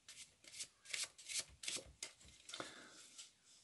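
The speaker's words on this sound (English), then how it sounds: "Now cut just under half and shuffle them onto the top." A packet of playing cards shuffled by hand, a run of quick riffling bursts repeating about every half second, close and fairly quiet, with no talking.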